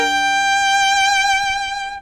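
A bowed three-note violin chord, played slowly, sustains evenly, rich in overtones, then fades out at the end.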